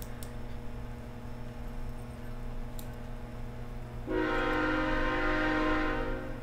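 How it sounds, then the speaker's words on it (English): A loud train horn sounds in one long sustained blast starting midway, rising over a low steady hum and lasting to the end, with no talking. "There goes the good old loud train horn."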